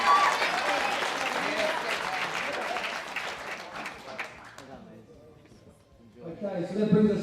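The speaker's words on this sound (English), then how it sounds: "Good round of applause" A crowd claps in a round of applause at a state powerlifting championship, fairly loud at first, then fading to near quiet before a voice picks up.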